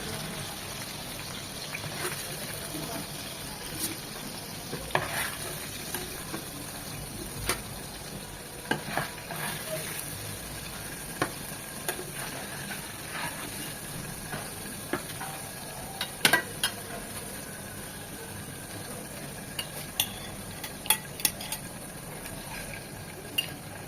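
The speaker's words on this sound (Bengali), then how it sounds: "ওই পাশটা ঠিক 1 মিনিট এভাবে ভেজে নেব।" Boal fish frying in hot oil in a pan, a steady soft sizzle with occasional crackles and light stirring clicks throughout, fairly quiet and without any talking.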